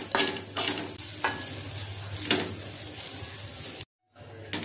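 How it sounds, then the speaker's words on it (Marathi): Grated coconut roasting in ghee in a pan for modak, with a spoon stirring and scraping steadily over a continuous dry sizzle, close and fairly loud, before a short silent gap and a brief return of the sound. "खोबरं चांगलं भाजून घ्यायचं।"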